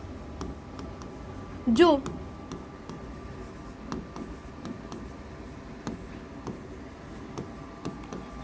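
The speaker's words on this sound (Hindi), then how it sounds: "फटाफट से लिख लेते हैं" Pen scratching across paper as a Class 10 science teacher writes out a definition during a lesson on magnetic effects of electric current, faint and intermittent beneath his continuous talk.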